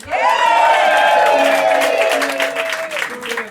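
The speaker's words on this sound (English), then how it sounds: "We're cheering because I'm still alive." An audience at a birthday cabaret show cheers and applauds, a loud close burst of clapping with a rising whoop that holds for a few seconds and then fades.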